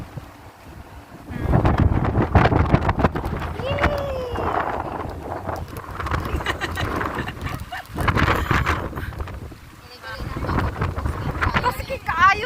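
Strong seaside wind buffets the microphone at a marina on a sandy, gusty day, a loud continuous roar rising and falling in bursts, with people talking under it.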